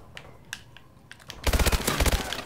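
Rapid automatic gunfire from Call of Duty: Advanced Warfare gun game, a loud burst of closely spaced shots after a few quieter scattered clicks and shots.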